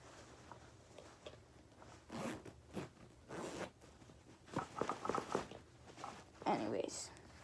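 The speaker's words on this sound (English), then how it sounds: "We're gonna zip that pocket up." A bag pocket is zipped shut in several quiet, scratchy zipper pulls, close but faint against a soft room background.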